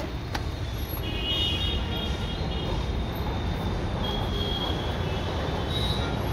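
Metro train running past on its rails, a steady loud rumbling wash with faint high wheel squeals drifting in and out, heard nearby without any talking.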